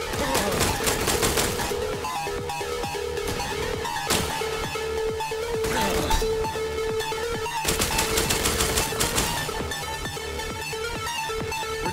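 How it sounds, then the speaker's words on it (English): Rapid bursts of gunfire from the video game I Am Your Beast crackle through the whole stretch, with dense repeated shots, some louder volleys and a sustained tonal hum of game sound beneath. "I should shoot that barrel there"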